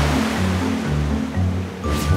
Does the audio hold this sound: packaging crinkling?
no